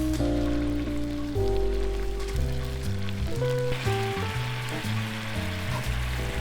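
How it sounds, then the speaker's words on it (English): Sliced banana caramelizes in a pan of olive oil, dark brown sugar and fresh lemon juice, giving a steady, close sizzle and bubbling frying hiss. Soft background music plays underneath. "We're gonna caramelize banana."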